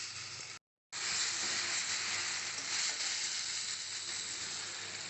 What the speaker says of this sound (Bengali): ভাজা আলুগুলো দিয়ে দিলাম মশলার সঙ্গে ভালো করে এবার আলুটাকে কষে নেবো